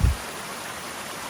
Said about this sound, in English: We're crossing this beautiful mountain stream over and over, back and forth, following it up the mountain